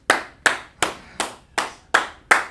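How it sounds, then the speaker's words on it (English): Seven sharp, evenly spaced claps from a class cheering a student, each crisp and close, ringing briefly in a small room, with no talking over them. "Clap it up for her."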